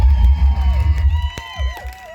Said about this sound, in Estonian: Tehke endale üks suur aplaus